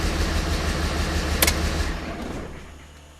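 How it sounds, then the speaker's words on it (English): Diesel engine with a leaking injector running rough on five cylinders right after an instant start, with a loud uneven chugging idle that fades away toward the end. "If it starts, it'll run on 5 cylinders."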